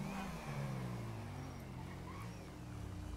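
A vehicle in the GTA V video game speeds past, its engine roaring steadily and fairly loud throughout, with a low rumbling drone and a slight rise and fall as it goes by.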